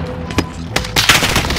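Gunfire in Call of Duty Modern Warfare Warzone: several sharp, loud shots and rapid bursts crackle close by, with a dense volley near the end.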